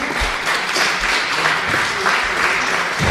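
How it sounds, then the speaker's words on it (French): A studio audience at a comedy show claps steadily for a few seconds, a dense, close wash of hands with no voices. "Applaudissez."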